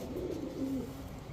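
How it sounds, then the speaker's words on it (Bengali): A silver male pigeon gives a soft, low cooing call close by over a faint background hum. "এই হচ্ছে সিলভার কবুতর একটা নর কবুতর"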